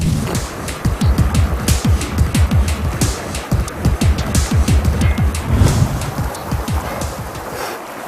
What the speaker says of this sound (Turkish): Dere dağlardan geliyor.